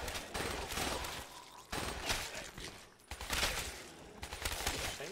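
Burst-fire weapon shots in Black Ops 3 zombies on the Verruckt map, dense repeated gunfire bursts that are loud and close, with brief pauses between volleys.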